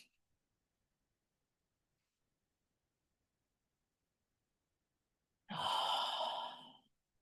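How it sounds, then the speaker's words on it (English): A single deep breath during a guided meditation, one long breathy exhale lasting over a second after several seconds of near silence, close and soft. "Let's take a nice big deep breath"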